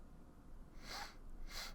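Two quick nasal sniffles, one after the other, faint and close against a quiet room with a low background hum and no talking.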